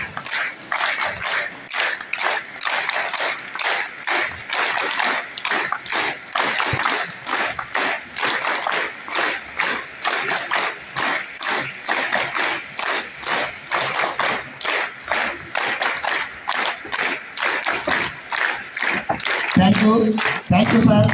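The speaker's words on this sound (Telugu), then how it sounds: "ఒకసారి అందరూ యాజమాన్య వారికి గట్టిగా చప్పట్లు కొట్టాలి" An audience claps in unison for the organisers at a Bharatiya Yog Sansthan 58th foundation day gathering, keeping a steady repeating rhythmic pattern of sharp claps that carries on evenly for about twenty seconds.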